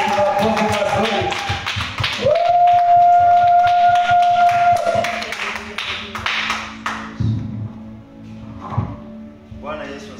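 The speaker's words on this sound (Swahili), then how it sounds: "Pigia Bwana Yesu makofi mazuri." A church congregation at a Swahili worship service claps with loud, fast taps that thin out into scattered claps. A sustained tone sounds early on.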